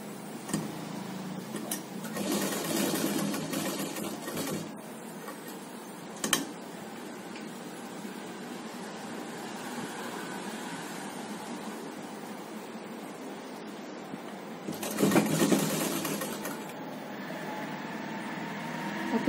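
A sewing machine stitches a folded seam on a two-year-old child's umbrella frock, running in steady ticking bursts with louder stretches near the start and again toward the end, otherwise a soft continuous whir with no talking.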